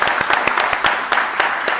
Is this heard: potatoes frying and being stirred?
no